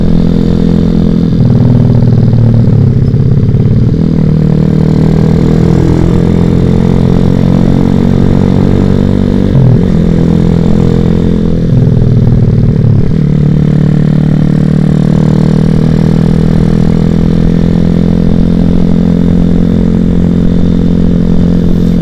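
A Suzuki Satria FU motorcycle fitted with a Dos Muffler exhaust idles steadily and loud up close, its low throbbing engine note holding constant with a few brief dips and revs, no voices over it.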